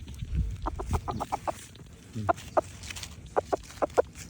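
Chickens, fighting-cock breed kept as show birds, cluck in a series of short, distinct calls, several in quick bursts, fairly close over a steady low outdoor rumble with no talk.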